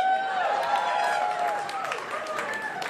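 Scattered applause from a stand-up comedy club audience, light clapping and murmurs heard from a mid distance at a moderate, uneven level for about three seconds.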